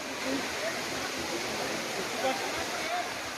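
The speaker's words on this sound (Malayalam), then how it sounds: "വെള്ളത്തിൻ്റെ നല്ല സൗണ്ടും ആൾക്കാരുടെ ബഹളമൊക്കെയാണ് കേൾക്കുന്നത്." A waterfall's constant broadband roar fills the scene, with faint chatter of people mixed underneath.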